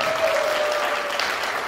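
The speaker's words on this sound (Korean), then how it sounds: "박수 한번 주시면" A dense, even wash of audience applause fills a church-style concert gathering with a guest singer, steady and unbroken throughout this brief moment, with a faint tone humming beneath.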